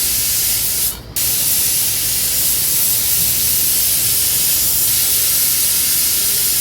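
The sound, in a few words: pressure cooker whistle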